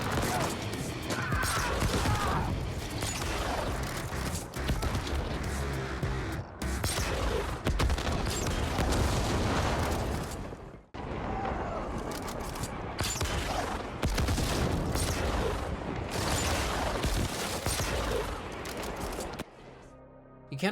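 Sustained heavy gunfire and explosions from The Ascent, a dense, loud barrage of weapons fire mowing down NPCs, continuous with brief dips and a voice talking over it.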